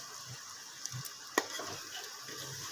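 Green chillies frying in a pan for a pumpkin and egg dish, giving a quiet, steady sizzle with soft stirring scrapes and one brief clink near the middle.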